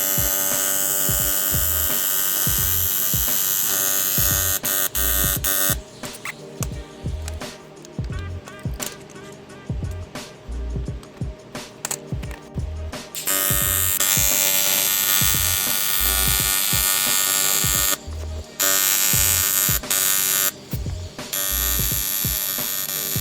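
Sight glasses being welded in a workshop, filling chamfered holes so the weld runs all the way through: a loud, steady crackling buzz that runs in long bursts separated by brief pauses.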